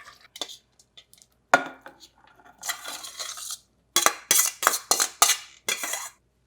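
A utensil stirs drained ground burger mixture in a pan, sounding as a series of scraping clinks and metallic taps that are sparse at first, then come faster and louder in quick strokes, with no talk.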